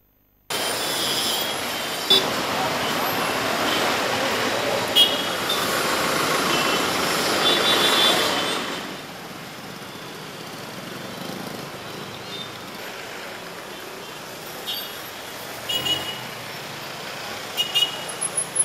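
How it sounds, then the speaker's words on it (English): Busy city traffic during the opening day of a film festival, with cars and trucks idling and rumbling in steady congestion, a broad engine roar that eases after several seconds, joined by a few brief horn toots near the end. "Capital City also witnessed traffic congestion during inaugural ceremony of IFFI."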